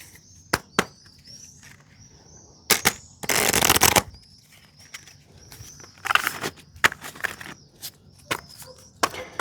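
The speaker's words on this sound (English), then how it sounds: "I just need to give this a quick shuffle." A deck of cards is riffled in several quick bursts, with sharp taps and clicks between them and faint bird chirps in the background.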